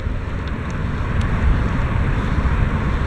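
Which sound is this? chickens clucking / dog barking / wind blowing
wind blowing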